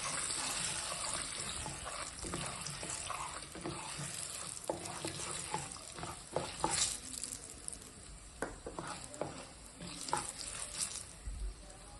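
Whole spices frying in hot oil in a pan for cucumber chutney give a steady crackling sizzle, with a utensil stirring and scraping and a few sharper clicks, and no one speaking.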